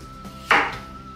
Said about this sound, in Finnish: pari annosta perunaa ja voidaan pilkkoa noin